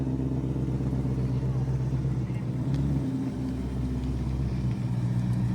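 A VMP-tuned Ford Mustang GTD, rated around 815 hp, runs on a dyno with a steady, loud low engine drone that holds throughout. Voices talk over it.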